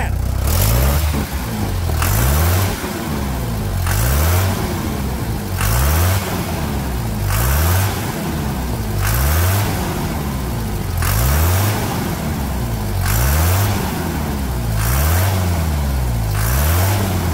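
A Toyota Hilux 2.8 diesel engine revs hard in repeated bursts, rising and falling roughly every two seconds, loud and close, with no talking.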